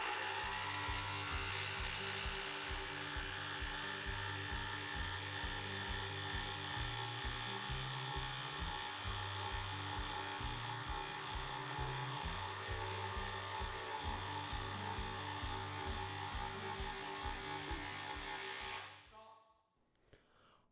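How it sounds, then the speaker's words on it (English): DeWalt, Makita and Milwaukee cordless drills drive solid lag screws into wood, giving a loud, steady motor whine with rhythmic pulsing strain that runs for about nineteen seconds before stopping abruptly. "We're gonna put these lags in for our first test."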